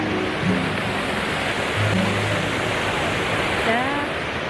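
Water fountain splashing outdoors in Washington D.C., a steady broadband wash of falling water heard up close, with faint voices murmuring in the background.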